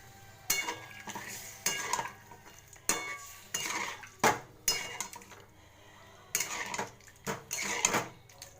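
Punjabi-style potato curry (aloo dum) being stirred in a pot with a metal spoon, with repeated scraping clinks and stirring strokes in an uneven rhythm over a low simmering sizzle, close and clear.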